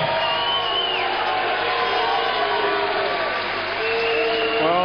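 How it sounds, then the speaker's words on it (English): Boxing arena crowd after a Southern Area light welterweight title fight, loud sustained applause and cheering with whoops and boos mixed in, a dense continuous roar. "the cheers mixed with some boos here"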